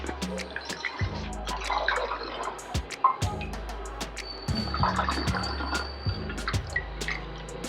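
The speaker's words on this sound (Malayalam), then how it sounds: "ഇനി നമുക്കിത് ബോട്ടിലിലേക്ക് ആക്കാം" Homemade wine poured from a container into a bottle, liquid splashing and gurgling in bursts with drips and a few clinks, close and fairly quiet, no talk.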